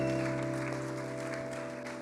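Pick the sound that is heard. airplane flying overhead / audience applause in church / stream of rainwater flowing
audience applause in church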